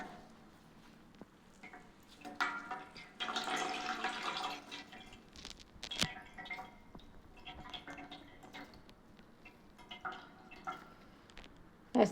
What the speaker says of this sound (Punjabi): ਮੂਲੀਆਂ ਦੇ ਵਿੱਚੋਂ ਆਪਣਾ ਇੰਨਾ ਪਾਣੀ ਡਰੇਨ ਹੋ ਚੁੱਕਿਆ ਹੈਗਾ